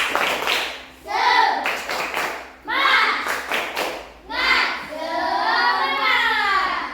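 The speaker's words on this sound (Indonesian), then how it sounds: "Tepuk semangat!" Fourth-grade children in a classroom do a spirit clap, chanting loudly in unison over patterned bursts of hand claps, repeated in several short rounds close by.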